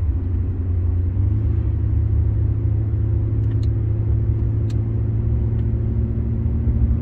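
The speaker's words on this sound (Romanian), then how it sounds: "Ia să vedem un BMW M5 Stage 2." A BMW M5 with a Stage 2 tune idles and rumbles steadily, its engine and exhaust droning in a deep, close, loud hum with no revs or talking.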